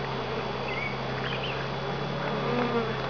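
Honey bees buzz steadily around occupied hives in a small home apiary, a dense continuous hum with individual bees drifting past nearby, no talking.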